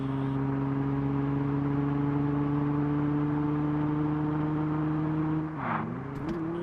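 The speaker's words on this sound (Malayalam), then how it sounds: "ഞാൻ എന്തായാലും വണ്ടിയുടെ സൗണ്ട് ഒന്ന് കേൾപ്പിച്ചു തരാം നിങ്ങളെ." A modified Benz engine drones steadily in the Car Parking Multiplayer driving game, a smooth sustained tone that dips and shifts briefly near the end as the revs change.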